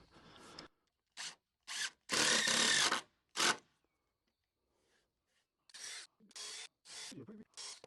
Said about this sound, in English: We have to pre-drill just to get through it.